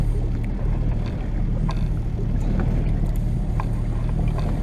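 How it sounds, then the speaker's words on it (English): A steady, loud boat outboard engine drone runs throughout with a constant low rumble, with faint clicks and splashes on top. "the engine is now running, the propeller's now turning"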